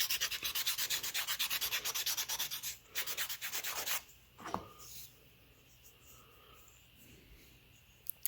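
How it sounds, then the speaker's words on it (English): Fine-grit sandpaper rubbed in quick back-and-forth strokes on a DIY couch sleeve, a steady rasping scrub for about four seconds with a short pause, then quiet with a faint knock or two. "So I'm finishing it off on a much finer grit."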